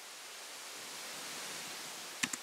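Reversed white noise sample from a techno track, a broad hiss swelling gradually in level and ending in a few short clicks, with no other sounds.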